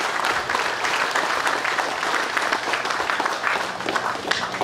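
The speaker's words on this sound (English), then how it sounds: "A round of applause, please," An audience at a party awards ceremony gives the awardees a steady round of applause, dense and even throughout with no voices over it.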